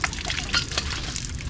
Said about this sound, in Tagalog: Tingnan mo, lakas sa tubig oh.